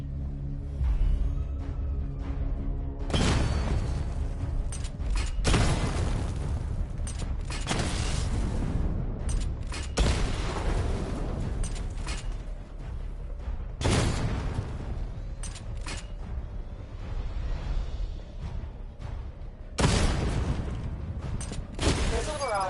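Repeated heavy missile barrage blasts from a Fortnite weapon, loud broadband bursts striking targets in rapid clusters over a constant mechanical rumble.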